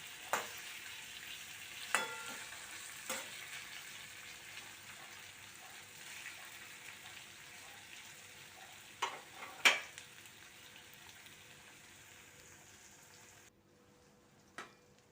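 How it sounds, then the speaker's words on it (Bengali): Ginger garlic paste frying with fried onions for Bengali-style ghugni, a quiet, steady sizzle with a few separate spoon knocks against the pan, fading to near silence toward the end. "তখন আমি তার মধ্যে আদা রসুন পেস্টটা দিয়ে দিলাম আদা রসুনের কাঁচা গন্ধটা যাওয়া পর্যন্ত সুন্দর করে কষিয়ে নিতে হবে"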